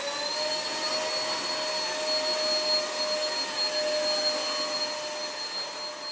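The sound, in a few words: vacuum cleaner running at power level 3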